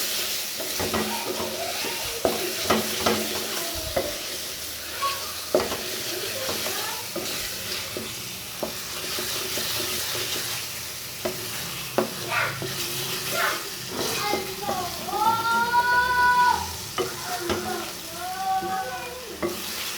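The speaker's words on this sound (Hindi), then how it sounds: "लहसुन और अदरक का पेस्ट डालने के बाद तकरीबन 5 मिनट हो गए मुझे भूनते हुए" Ginger-garlic paste fries in hot oil for a nargisi kofta masala, a soft continuous sizzle under repeated spoon scrapes and clinks against the pot, close by, with brief faint sounds of voice.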